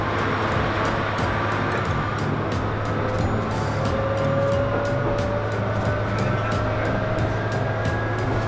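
Isumi Railway train pulling out of Otaki Station on the Boso Peninsula, heard from on board: a steady engine drone with a slowly rising whine and regular clicks of the wheels over rail joints as it gathers speed.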